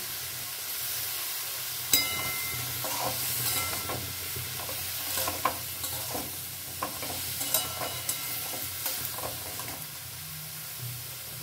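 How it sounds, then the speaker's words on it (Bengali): Chopped tomato sizzling in a hot pan for sabzi dal, a broad hiss with repeated scraping stir strokes in an irregular rhythm, close and fairly loud; no voices. "এবারে পিস করা টমেটোটা এর মধ্যে দিয়ে দিচ্ছি।"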